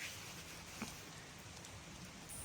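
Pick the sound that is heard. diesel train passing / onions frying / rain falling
rain falling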